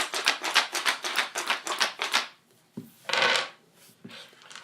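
Poker dice rattled in a leather whip cup: a fast, dense clatter for about two seconds, then a pause and a few shorter rattling bursts and taps, close and clear with no voices.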